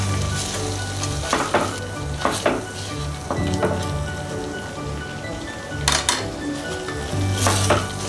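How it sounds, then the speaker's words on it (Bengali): Spiced masala with whisked yogurt and tomato ketchup sizzles loudly in a pan while being stirred, with steady frying hiss and several sharp scraping clatters of the spoon against the pan. "মশলাটা খুব ভালো করে কষানো হয়ে গেছে"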